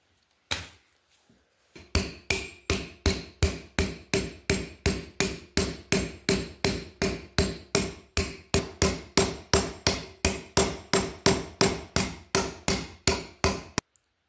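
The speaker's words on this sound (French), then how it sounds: "Puis je vais venir forger la lame de ce côté-ci." Steady hammer blows forge the iron blade of a fleshing knife held in a wooden block, about three strikes per second in an even rhythm, loud and close, after a short pause and a few light taps at the start.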